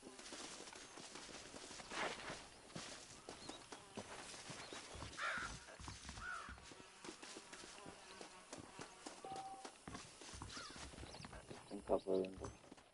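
Horse hooves clip-clop in the Red Dead Redemption video game, a quiet run of soft repeated hoofbeats under a voice talking over the gameplay.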